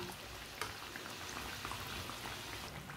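Samosas deep-frying in oil over a low flame make a quiet, continuous bubbling fizz with tiny popping crackles, steady throughout with no voices.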